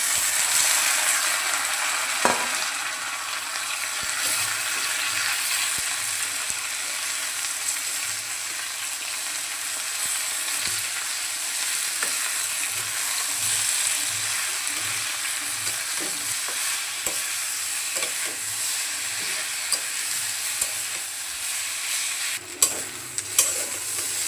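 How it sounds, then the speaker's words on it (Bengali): Boiled Malabar spinach frying in a pan with onion and garlic for a Bengali dish, a steady sizzle with occasional soft scrapes and stirring clicks, no voices. "এখন সিদ্ধ করে শাকটা দিয়ে দিচ্ছি।"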